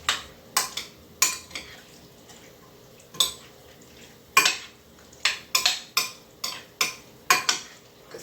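Utensil scrapes and clinks against a bowl as chopped ceviche ingredients are mixed, in quick irregular strokes, close by with no talking.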